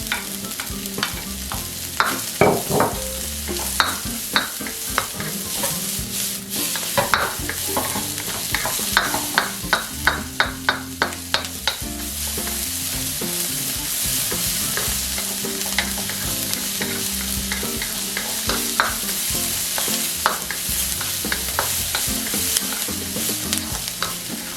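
Onions sizzle loudly with meat and vegetables in a pan, a constant hiss broken by sharp scraping and clinking as a utensil stirs. There is no talking.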